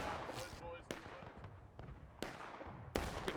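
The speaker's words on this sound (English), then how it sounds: "Another arty shot coming in." Artillery rounds land in War of Rights, an American Civil War battle game, as several sharp booms at irregular intervals, the loudest near the end, over steady battlefield noise and scattered voices.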